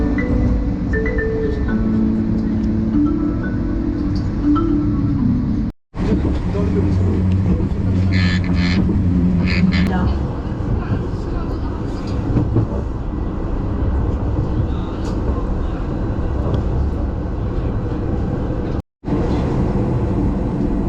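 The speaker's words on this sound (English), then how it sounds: "I literally just got off the tram." Tram in Bergen city centre, heard from on board as a steady loud rumble and rolling hum with rattles. A couple of brief dropouts break the sound.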